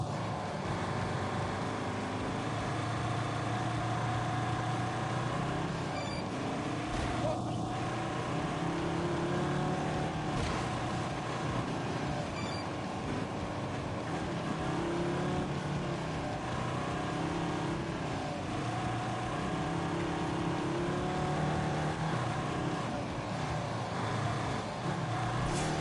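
Ford 3.2 litre five-cylinder engine, as used in the Transit van, powering a pickup truck racing off-road in Wales, a steady loud droning hum running continuously throughout.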